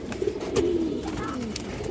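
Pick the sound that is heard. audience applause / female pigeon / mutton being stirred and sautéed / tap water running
female pigeon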